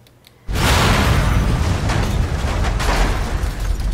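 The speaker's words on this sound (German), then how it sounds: "Da ist irgendwas explodiert, glaube ich." A sudden loud explosion in the video game The Evil Within bursts in after a quiet moment and then keeps roaring and rumbling as a dense, sustained blast to the end.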